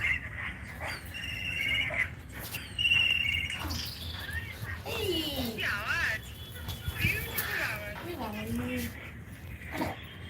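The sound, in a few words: kites calling loudly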